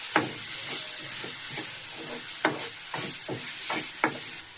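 Pasta ingredients stirred in a pan with salt and spices, a spoon scraping and clacking against the pan in irregular strokes over a soft sizzle, close and moderately loud with no talking.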